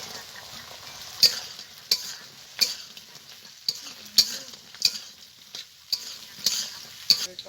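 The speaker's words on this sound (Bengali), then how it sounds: "ভাজা হয়ে গেছে, এবার ভেজে রাখা সয়াবিনটা দিয়ে দেবো।" Fried soybean chunks stir-fried in a pan with a sauce paste for chilli soybean, giving a soft steady sizzle broken by sharp, regular scraping strokes of the spatula about every half second to second.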